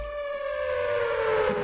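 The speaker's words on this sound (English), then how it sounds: "The sirens are still going, a little." Sirens wail in a steady, sustained tone with a slow downward pitch glide, loud and continuous throughout, with a low rumble underneath and no talking.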